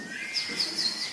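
A concert audience whistles in imitation of a blackbird, giving several short, high, chirping whistles that sound faint and slightly distant over a soft room hiss.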